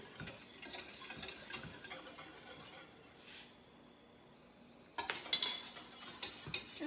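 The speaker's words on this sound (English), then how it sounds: "Just going to keep stirring that, keep all the lumps out of it, and let it kind of heat slowly." A spoon stirring caramel pie filling in a pot as it slowly heats, giving soft, quiet scraping and light clinks with a faint sizzle, a little louder near the end.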